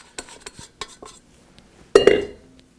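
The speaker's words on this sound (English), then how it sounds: "just take a dough scraper or bench scraper, and then just dislodge it, quick strokes" A dough scraper works dough loose from an ungreased mixer bowl in quick strokes, giving a few sharp scrapes and knocks and then a louder rough scraping burst against the bowl.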